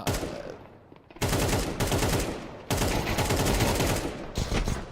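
Dense automatic gunfire from a Counter-Strike 2 match in an esports tournament, loud sustained bursts with a short lull before heavier volleys return, close and continuous.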